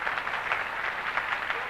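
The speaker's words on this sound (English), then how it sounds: "Listen to that applause." Steady applause from a crowd, dense clapping filling the whole stretch at moderate volume without pause.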